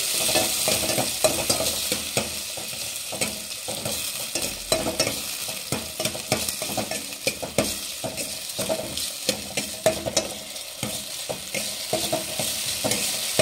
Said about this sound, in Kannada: ಚೆನ್ನಾಗಿ ಟೊಮೊಟೊ ಫ್ರೈ ಮಾಡಬೇಕು ಫ್ರೆಂಡ್ಸ್. ಟೊಮೊಟೊ ಬೇಯಬೇಕು ಎಣ್ಣೆಯಲ್ಲಿ